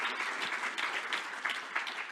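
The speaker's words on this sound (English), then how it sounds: "Yeah, let's give a round of applause." An audience at a plenary session on redistricting and fair districts gives a round of applause: a moderately distant, sustained patter of many hands clapping with a few louder individual claps standing out.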